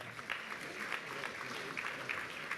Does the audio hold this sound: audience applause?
yes